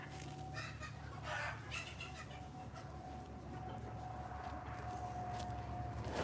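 A chicken on a rare fruit tree farm clucking in a few quick, faint calls early on, then fading into steady outdoor ambience.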